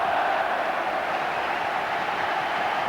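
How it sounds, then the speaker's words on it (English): A football crowd at Liverpool v Southampton in 1982 lets out a broad, sustained roar, steady and loud throughout the short stretch, with no single voice standing out. "The crowd rising to him."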